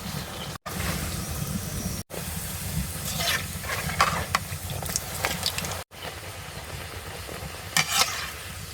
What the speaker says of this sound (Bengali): এ দেখো বাপ গরম গরম কচুর লুচি ভাজছে।